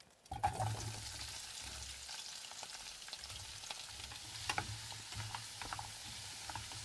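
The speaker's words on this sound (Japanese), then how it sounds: "じゃあ野菜炒めておいて" Vegetables stir-frying in a pan over a campfire at a campsite, a steady close sizzle with scraping and tapping of a utensil stirring, irregular clatters throughout, no voices.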